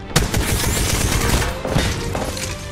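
Gunfire in the video game Apex Legends, a loud rapid fusillade of shots that rattles on continuously through the whole stretch, close and dense, with no talking.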